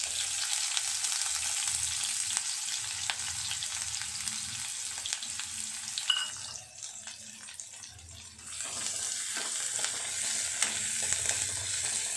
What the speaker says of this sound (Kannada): ಈರುಳ್ಳಿ ಎಲ್ಲ ಚೆನ್ನಾಗಿ ಕ್ಲೀನಾಗಿ ಫ್ರೈ ಆಗಬೇಕು